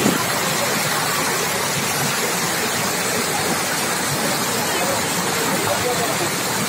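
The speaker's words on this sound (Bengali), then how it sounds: "দেখছেন ঝর্ণার জল কিভাবে স্পিডে প্রবাহিত হচ্ছে।" Fast-flowing waterfall water near a living root bridge in Meghalaya, India, makes a steady broadband rush that stays loud and unbroken throughout.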